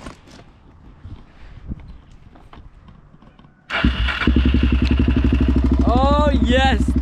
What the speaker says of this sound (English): So today we're gonna be driving a LTZ Suzuki 400.